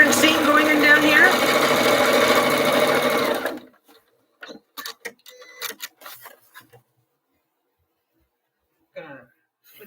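A sewing machine stitches a quarter-inch seam for a Brigid's Cross table mat, running in a fast, steady whirring chatter for a few seconds before stopping, followed by scattered soft handling clicks and rustles.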